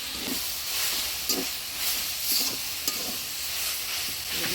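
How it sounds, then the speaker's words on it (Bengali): Jute greens fry in a pan while being stirred, with a steady close hiss and sizzle and soft scraping pushes of the spoon recurring every second or so. "শাকটা নাড়াচাড়া করে নিলাম"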